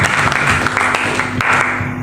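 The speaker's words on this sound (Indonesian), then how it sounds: "Boleh beri tepuk tangan yang meriah bagi Tuhan kita saudara." A church congregation at an evening worship and prayer service in Gunung Salak, Bogor, applauds loudly and steadily, with a thick, continuous wash of clapping and a faint steady hum beneath.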